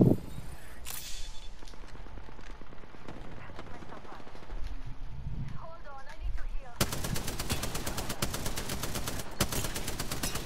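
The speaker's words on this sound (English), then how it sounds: "I'm just shooting at them" Rapid automatic gunfire from Apex Legends fills a combat exchange, dense bursts and sharp cracks running nearly continuously, growing louder and steadier in the final stretch, with brief talk mixed in.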